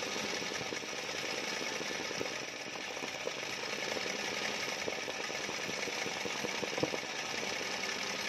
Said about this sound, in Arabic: نقص السرعه ديال الماكينه.